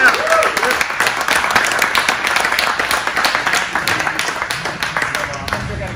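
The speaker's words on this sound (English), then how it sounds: "So one more round of applause for all these guys that played." An audience at a fishing tournament award ceremony claps in a steady patter of applause for several seconds, with a voice talking over it.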